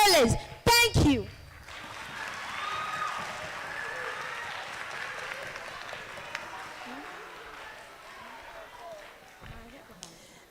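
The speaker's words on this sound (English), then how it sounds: "Another round of applause for them." An audience at an inter-school spoken word contest in Accra applauds steadily, a dense wash of clapping that holds fairly even after a few sharp sounds at the start.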